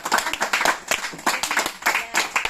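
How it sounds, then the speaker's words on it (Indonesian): A small audience claps after a classroom presentation on oil palm pests, with a few seconds of uneven, crackling hand claps coming close together and fairly loud. "tepuk tangan untuk."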